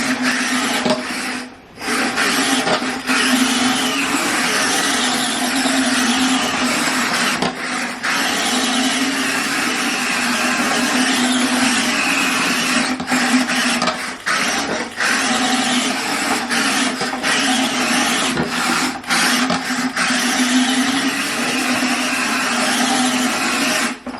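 A radio-controlled replica of a BBC Two car drives continuously, giving a steady whirring motor drone with a strong low hum and broadband rasp, close and loud, with a few brief dips in level, no talking.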